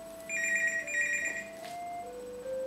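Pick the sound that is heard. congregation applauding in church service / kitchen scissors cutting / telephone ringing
telephone ringing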